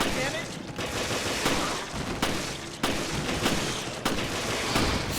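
Gunfire in Resident Evil Revelations, several bursts of shots rattling through a continuous, busy mix of game noise, with a few sharper cracks standing out at intervals.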